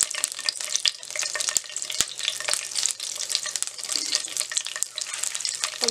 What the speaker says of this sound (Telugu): కొంచెం 2 రెబ్బలు కరివేపాకు వేసుకొని ఫ్రై చేసుకోవాలి.